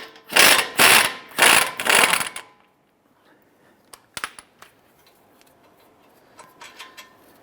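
Ratchet wrench working a bolt loose on the front hub assembly of a 2009-2015 Honda Pilot: loud bursts of rapid clicking for about two seconds, then quiet with a few faint, scattered ticks and taps.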